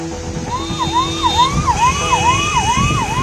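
An ambulance siren wails loud and close in a traffic jam on a flooded flyover after heavy rain. Its rising and falling tone repeats rapidly over rumbling vehicle noise.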